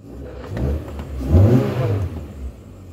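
A MINI One car engine with a suspected bad bearing idles and briefly rises in revs, giving a low rumbling whir with a rough midrange swell up close.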